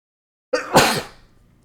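A single sharp sneeze, a quick intake followed by an explosive burst that fades quickly, close and clear with silence before it.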